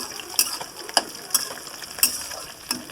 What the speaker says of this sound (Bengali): মূলো শাকটা নেড়ে নিচ্ছি